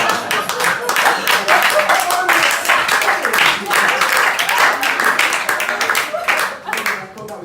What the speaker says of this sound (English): I thought that was your second clap